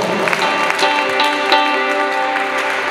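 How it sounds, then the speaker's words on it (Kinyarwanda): A church congregation applauds during a worship service: sustained, dense clapping from many hands with a steady musical tone running beneath it throughout. "reka Yesu tumukomere amashyi"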